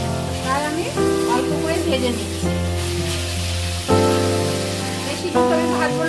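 Food sizzles while lightly frying in a pan in a home kitchen, a continuous hiss with occasional stirring under steady background music tones.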